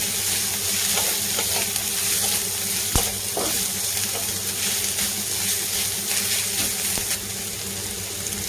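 Onion and finely cut carrot sautéing in a pan for a chapati veg roll, a loud, steady frying sizzle that stays even throughout, with an occasional faint clink from a utensil.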